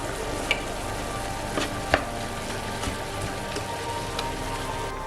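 Carrots hit a hot frying pan and sizzle in a steady, close crackle with a few sharp ticks and pops, no talking over it.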